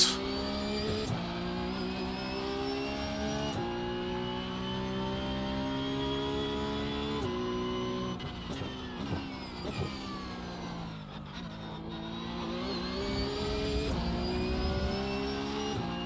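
Porsche Carrera Cup race cars lap Imola in a racing video game, their engines droning loudly and continuously with rising and falling revs as gears shift, several cars blending together without a break.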